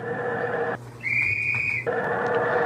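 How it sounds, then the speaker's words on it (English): A referee's whistle gives one sustained, shrill blast of about a second at a Rams football kickoff, rising above the constant roar of a stadium crowd. "There's the whistle as the ball is teed up at the Rams' 40-yard line."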